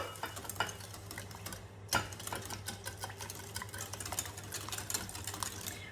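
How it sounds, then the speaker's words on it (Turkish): Eggs and sugar are beaten together in a bowl, giving a quiet, steady clatter of fast whisk strokes against the sides over a low background hum. "diğer bir kapta da yumurtalarımı ve şekerimi çırpıyorum"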